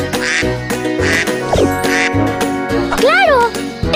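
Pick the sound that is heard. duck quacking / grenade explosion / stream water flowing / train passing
duck quacking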